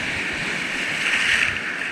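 Ocean waves surge and wash against coastal rocks at a rock fishing spot, a steady close roar of churning water that builds slightly midway.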